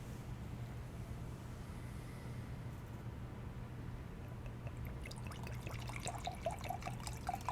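Mead pours in a thin, steady trickle over a low background hum, with faint splashing and clinks toward the end.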